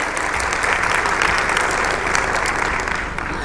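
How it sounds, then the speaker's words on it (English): Steady applause from the audience at an English language teaching conference, a dense, even wash of clapping lasting a few seconds with no pauses. "let's give an applause to them."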